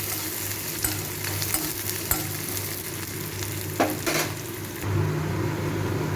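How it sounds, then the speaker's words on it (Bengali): Chopped garlic and onion frying in hot oil in a pan, a steady close sizzle with stirring scrapes and a few louder crackles throughout, with no talking. "রসুন আর পেঁয়াজটাকে একটু হালকা করে ভেজে নেব।"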